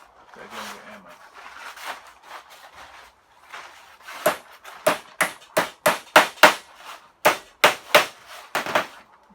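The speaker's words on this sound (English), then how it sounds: "Go again with hammer." A hammer strikes repeatedly during a narrowboat build and fit-out, about a dozen sharp, close, evenly spaced blows after some quieter handling noise at the start.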